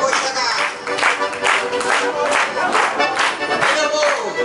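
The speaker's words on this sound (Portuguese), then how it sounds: "Cadê as palmas pro boi chegar?" A crowd claps rhythmically in steady beats at an open-air mamulengo puppet show at a fair, welcoming the ox figure, with voices and music underneath.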